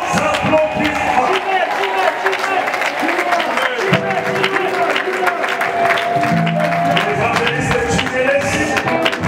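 Audience at a church gathering applauds steadily throughout, a dense wash of clapping with murmured crowd voices and some tonal music or sustained sound mixed in.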